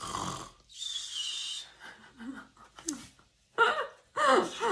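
A voice imitates snoring with a few rough, breathy snorts and wheezy inhales, close and fairly loud, with brief pauses between.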